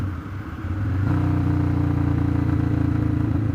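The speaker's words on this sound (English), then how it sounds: "It was my favorite motorcycle sound, letting off the throttle." Motorcycle exhaust pipes as the rider lets off the throttle while city riding, a loud steady burbling engine note with rapid pulsing that steps up after the first second and continues close and alone.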